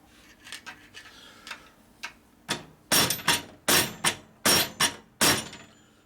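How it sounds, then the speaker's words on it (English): A hammer strikes a Shovelhead transmission seal held in a vise during a rebuild: several light taps first, then a run of about eight hard, ringing metallic blows at a steady pace. "Need a bigger hammer."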